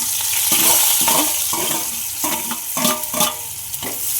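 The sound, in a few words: onion frying in pan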